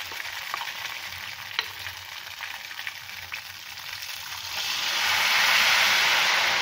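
Ghevar batter poured into hot oil fries with a continuous close hiss, crackling steadily and then swelling into a louder, fuller sizzle near the end.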